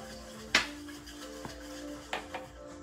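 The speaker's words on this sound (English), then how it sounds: "just get your dry ingredients. Just mix this up" Dry ingredients for an apple butter cake mixed in a bowl, with a few sharp clinks and taps of a utensil against the bowl, spaced irregularly over a quiet, faintly humming background.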